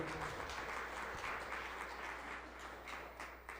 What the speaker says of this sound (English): a big round of applause for those guys